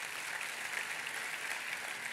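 An audience applauds at a talk, a dense wash of clapping hands that sounds fairly distant and soft, steady for the whole moment with no voices over it.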